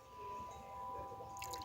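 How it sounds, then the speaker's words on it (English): Water poured into a homemade slime mixture during mixing, a soft steady liquid trickle with faint dripping and a brighter splashy burst near the end. "So now I'm gonna add in my water."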